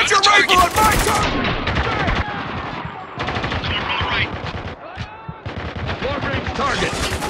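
Dense automatic gunfire and rifle shots from the shooter video game Spec Ops: The Line crackle continuously, with voices shouting over the combat throughout.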